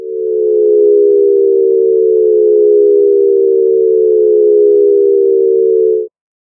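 A Shepard tone built on the Serum synthesizer sounds as a loud, sustained electronic hum that drifts slowly downward, holding steady for about six seconds before cutting off abruptly.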